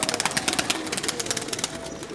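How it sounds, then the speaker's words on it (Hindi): Pigeons coo and flutter close by in a busy loft, overlapping calls repeating steadily with soft rustling throughout. "और कबूतर छोड़ता हूँ आप चाहिए तो कबूतर भी देख"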